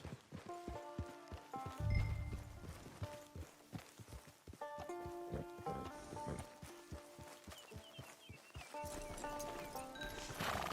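A horse in the Red Dead Redemption 2 video game walks with steady clip-clopping hooves and lets out a short whinny, over background music and ambient game sound.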